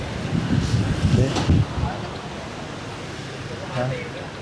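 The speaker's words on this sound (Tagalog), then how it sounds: "Malakas yung hangin." Strong wind buffets a microphone on a motorbike trip along the Hai Van Pass in Vietnam, a steady loud rumble with gusty surges and no talk.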